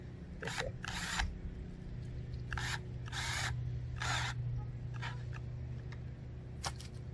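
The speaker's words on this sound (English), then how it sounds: "just as tight as that drill can make it" A power drill whirs in several short bursts with pauses between, tightening a band on a backyard sump pump part, fairly close, over a steady low hum.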